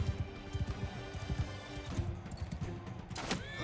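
A horse in the video game Mount & Blade II: Bannerlord with the Realms Forgotten mod makes rapid hoofbeats amid battle clatter, ending in a sharp crash.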